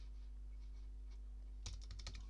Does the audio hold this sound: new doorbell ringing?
no